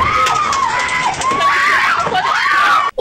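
Frantic high-pitched screaming and shouting from several residents after a Kombi van explosion, loud and continuous, with wavering cries rising and falling before a sudden brief drop near the end.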